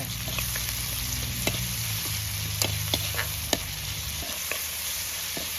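Red ginger stir-fried in a pan for a Shan-style pumpkin and egg dish, with a steady close sizzle and scattered sharp spatula scrapes and taps against the pan.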